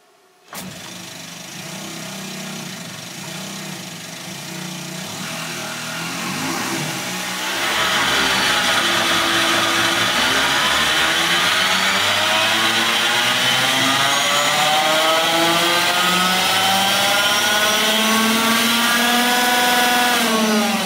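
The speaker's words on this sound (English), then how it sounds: "Dyno Jesse's Standard Range Plus here, various different states of charge" Tesla Model 3 Standard Range Plus electric car running on a dyno, a rising electric motor whine with sweeping tonal harmonics that climbs in pitch and grows louder, then holds strong and steady.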